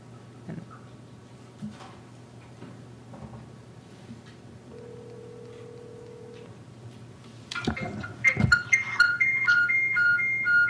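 A cell phone rings with an incoming call, a melodic electronic ringtone starting partway through and repeating loudly after a stretch of quiet room noise and a faint steady tone.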